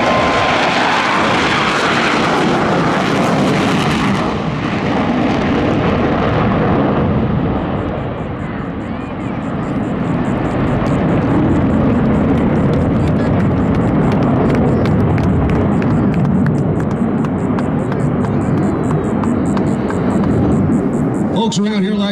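A Blue Angels jet at Pensacola Naval Air Station roars loudly and steadily, a deep thundering rumble with crackling afterburner noise that swells and lingers for many seconds.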